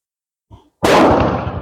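A single loud report from a surplus .32 pistol firing reload ammunition, preceded by a faint click, then a sharp blast that rings on for the remaining moment.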